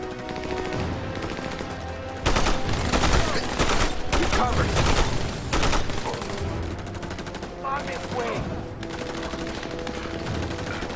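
A light machine gun fires in Army of Two: The Devil's Cartel, loud sustained bursts with rapid stacked shots and short pauses, and a voice speaks beneath the gunfire.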